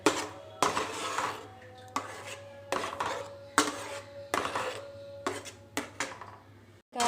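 A ladle scrapes and knocks against a pan while a sticky sweet mixture is stirred for Diwali sweets, giving repeated rhythmic scraping strokes with sharp metallic taps at a moderate level.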